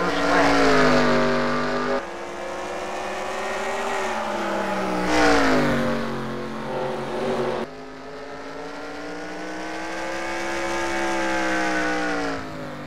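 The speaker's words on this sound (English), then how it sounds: "All 30 cars make it through the first lap." Thirty race cars lapping the short Bristol oval produce a continuous loud roar with engine notes sweeping up and down as the pack passes, surging and fading over several seconds.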